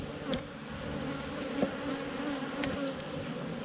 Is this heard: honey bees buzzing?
yes